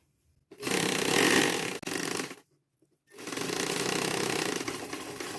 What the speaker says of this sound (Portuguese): Baixamos o pezinho e continuamos. Vamos costurar toda a volta.